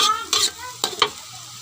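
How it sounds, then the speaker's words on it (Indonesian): Spices and crushed tamarind stirred in a pan for a fish gombyang broth, several short scraping strokes over a low sizzle, close up with no talking. "Kita aduk terus guys"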